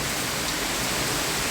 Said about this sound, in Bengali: এই যে প্রচুর বৃষ্টি পড়তেছে